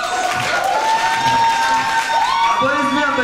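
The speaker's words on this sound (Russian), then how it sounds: "Аплодисменты, поддерживаем." Steady audience applause with some cheering fills a hall at an award ceremony, loud and continuous throughout, while a presenter talks over it.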